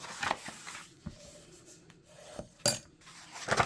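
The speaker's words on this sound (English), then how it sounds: "I'm gonna go ahead and burnish all my score lines." A bone folder burnishes score lines on a paper bird house treat box, making close, dry rubbing strokes in short intermittent bursts with quiet gaps and no talking.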